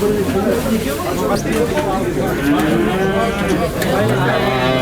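Several cows moo loudly over a busy, noisy background of crowd chatter and general market bustle, with long low calls rising near the end.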